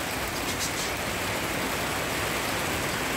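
Downpour on a rainy morning in the Netherlands, a continuous, even roar of heavy rain close by, unbroken throughout and without speech.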